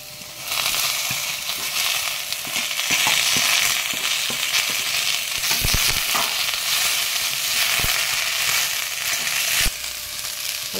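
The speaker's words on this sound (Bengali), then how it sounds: "এইবার আমি কপি ডাঁটাগুলো যেগুলো সিদ্ধ করে রেখেছিলাম সেইগুলো দিয়ে দেব।" Boiled cauliflower stalks fry in a pan for a vegetarian chorchori, a loud, even sizzle with sharp clacks of a spatula against the pan at irregular moments.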